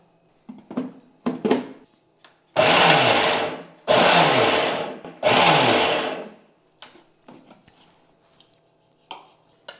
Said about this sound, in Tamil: அந்த பல்ஸ் மோடில் வந்து நம்ம அரைச்சி எடுத்துக்கணும்